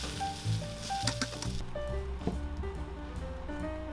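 Onions sizzle as they caramelize in a frying pan, a continuous close hiss with small crackles and stirring sounds, and soft music underneath.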